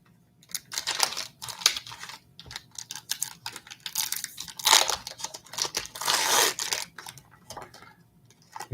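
Foil packs of 1995 Pacific Prism trading cards being torn open up close, a run of crisp crinkling, ripping bursts in irregular clusters with short quiet gaps and no talking.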